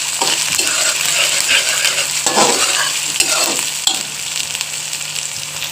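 Garlic, ginger and green chili paste fries with onions in a pan for a qima and potato-pea dish, giving a loud continuous sizzle with occasional scraping stirs and light metallic clinks.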